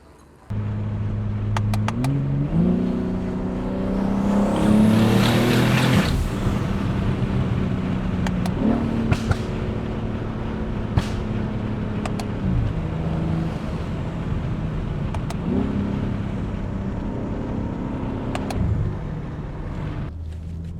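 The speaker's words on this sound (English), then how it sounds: "So welcome on board the BMW G81 M3 with the single turbo up front." An 800-horsepower BMW G81 M3 Touring with a single front-mounted turbo drives hard from inside the cabin, its engine note climbing through repeated gears with a loud surge mid-run and sharp shift breaks, under steady road and wind roar.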